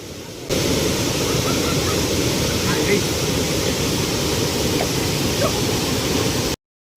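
Steady, loud rush of falling water roaring continuously, starting abruptly after a brief quieter moment and filling the whole clip.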